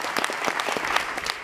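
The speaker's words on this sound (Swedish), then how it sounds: "Och du applåderas väldigt mycket." A studio audience applauds steadily in Studio 4 of Radiohuset in Stockholm during a radio interview, a dense, even patter of many hands at moderate distance, with no voices.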